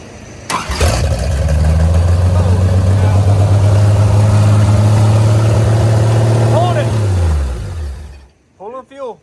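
An inline six engine in a Chevy S-10 pickup cranks briefly, catches and runs with a loud, close, steady idle, then shuts down; a voice speaks briefly near the end.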